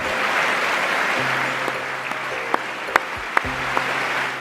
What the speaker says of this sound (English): Lawmakers applaud along party lines.